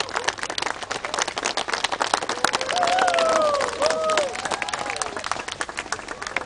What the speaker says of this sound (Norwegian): En applaus til Ove Tiltmeister,